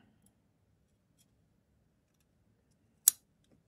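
A single crisp snip of scissors cutting a yarn tail during crochet flower work, one short close cut standing alone in near silence after a quiet stretch.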